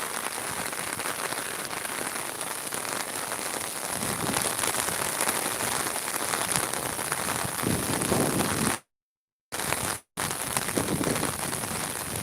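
Heavy rain pouring onto the swollen Surma river in Sylhet, a dense, continuous hiss of drops hitting water that swells slightly midway, broken by two short silent gaps near the end.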